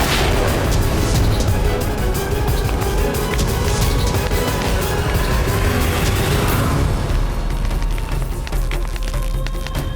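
Cannon fire and explosions from a battle in a historical TV drama about Maharana Pratap form a dense, loud, sustained roar of booms and crackling debris that eases slightly toward the end.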